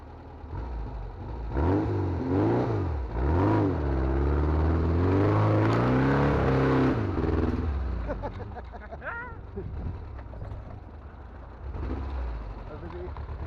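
A 4x4 overland vehicle accelerates off-road in first gear. The engine is loud and close, its pitch climbing and dropping in repeated surges before settling to a lower rumble, with voices talking over it.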